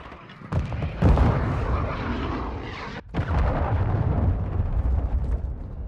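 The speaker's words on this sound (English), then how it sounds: "Friendly cruise missile approaching target." Cruise missile strike explosions in Call of Duty: Modern Warfare II, loud rumbling blasts and heavy booms running almost continuously, broken by a short gap before the roar resumes.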